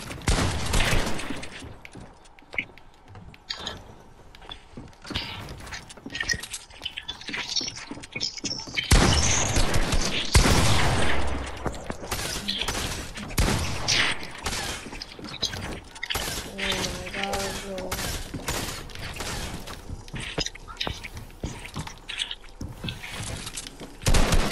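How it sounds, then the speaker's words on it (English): Shotgun blasts in a PvP video game come as sharp, loud bursts, clustered in places and scattered in others, amid clattering game effects and quieter gaps. "I shot my shotgun."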